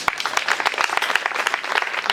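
Crowd applause from an audience at a conference-debate, dense steady clapping that fills the whole moment at moderate loudness.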